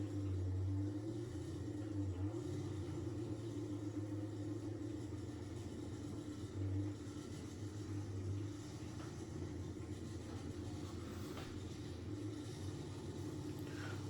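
A Chevy car driving by, heard as a quiet, steady low engine rumble that swells slightly now and then at a moderate distance.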